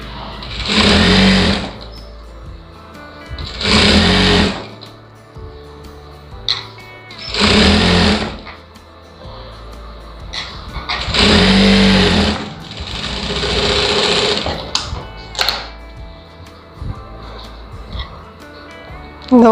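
A sewing machine stitches a lining blouse with a small stitch setting, sewing folded half-inch main cloth, in several loud bursts of rapid stitching separated by short pauses.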